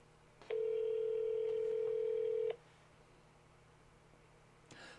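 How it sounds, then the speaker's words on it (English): An AT&T BL102 cordless phone emits a steady, loud electronic tone for about two seconds while placing a call, then quiet room hiss, with a faint click near the end. "Let me make a phone call now."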